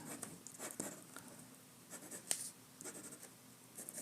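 A pencil scratches across paper in short, uneven strokes, drawing a center line for a Wonder Woman figure; the sound is soft and close, with small pauses between strokes and no talking.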